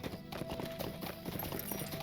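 A horse's hooves clip-clop in a steady rhythm while riding through the Lord of the Rings Online (LOTRO) video game, sounding close and continuous under soft game ambience.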